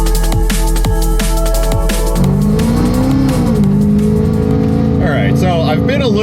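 An engine-swapped street car accelerates hard on a public road, its engine note climbing loudly and continuously through the revs while someone talks over it.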